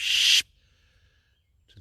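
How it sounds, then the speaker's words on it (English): A bird gives a short, sharp chip warning call during an early-morning walk at an arboretum. It is one loud, high burst at the start, then near silence, and a faint chirp at the very end. "You hear a little tito chip."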